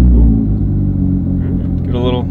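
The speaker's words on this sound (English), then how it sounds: "Listen to this engine purr." A supercar's engine idles with a deep, steady low rumble close by, overlapped by a voice talking over it.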